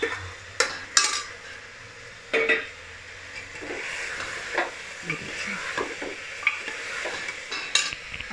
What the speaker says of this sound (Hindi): अब इसको मैं भूज रही हूँ और इसमें आलू को भी मैं डालूँगी।